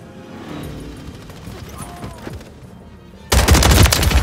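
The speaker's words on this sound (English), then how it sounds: "Taking effective fire!" Gunfire in the survival game Rust starts with faint distant shots and then breaks into a loud, rapid burst of automatic fire close by near the end.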